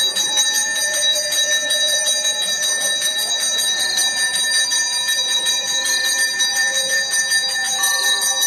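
Many temple bells ring together at once, a loud, dense, continuous clanging with repeated strikes layered over each other throughout, no speech.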